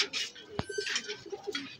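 A zira-necked racing pigeon coos softly in a loft, several low murmuring calls in a row with a brief sharp knock partway through and faint background noise.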